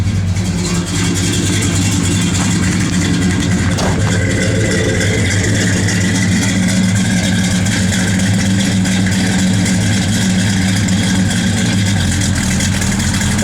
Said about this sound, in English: You can hear that cam. It's got a comp cam in it.